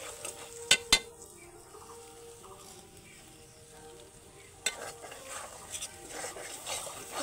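Eggs stirred in a hot oiled wok for Maggi noodles, with two sharp metal clinks of a utensil against the pan, then softer scraping and a faint sizzle.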